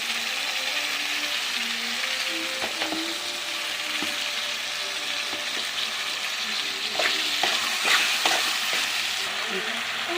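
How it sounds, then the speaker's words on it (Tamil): Tomatoes frying in a hot pan, a continuous sizzle with occasional clinks and scrapes of a stirring spoon, getting a little busier toward the end. "இப்போ தக்காளி ஆட் பண்ண போறோம்"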